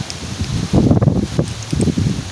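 Strong wind gusts buffet the microphone outdoors, blowing soil around, with low rumbling surges and rustling that rise and fall over a couple of seconds.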